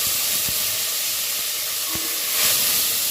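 Fresh mint leaves sizzle in hot oil with whole spices for green peas biryani, a steady close hiss and crackle with a few soft pops, no talk.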